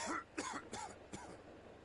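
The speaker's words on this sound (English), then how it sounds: "My guy's still coughing up a lung for some reason." Game character in the survival game Ark coughing, four short rasping hacks in quick succession, close and fairly quiet, alone without talk.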